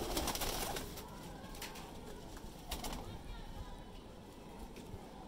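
Teddy breeder pigeons coo softly in a loft, low murmuring calls running under steady background noise with a few brief flutters, while a person talks over them.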